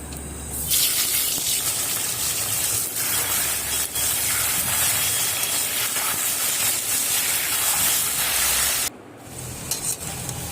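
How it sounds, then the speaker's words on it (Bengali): Elephant foot yam coated in turmeric powder fries in oil in a wok, giving a loud, steady sizzle and hiss that runs almost unbroken for about ten seconds before briefly dipping near the end. "দিয়ে ওলটাকে আমি ভালো করে ভেজে নেব"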